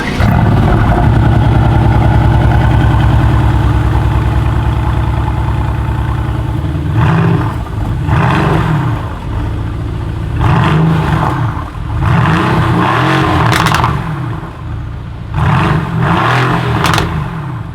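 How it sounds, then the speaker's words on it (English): A bi-turbo V8 engine in an AMG GT R sports car, in race mode with exhaust valves open, idles with a deep burble, then roars through several loud, rising revs in quick succession, each dropping back between bursts. "I'm going to put in race mode, open the valves, and give you a few revs"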